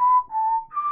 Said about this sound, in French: Produire un son aigu en soufflant entre les lèvres